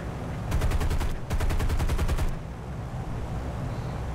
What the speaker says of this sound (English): I'm just trying to use my guns to help defend fellow bombers.